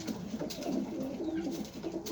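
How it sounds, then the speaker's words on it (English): Newborn pigeon squabs in a loft give soft, low cooing that runs steadily and close by, with no talking over it. "newborn pigeons."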